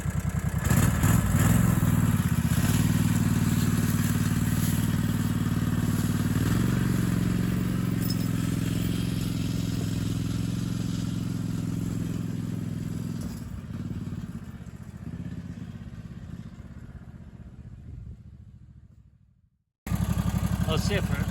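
An ATV pulling a long log with a Strongway log skidder, its engine droning loud and steady close by, slowly fading toward the end before cutting out briefly and returning.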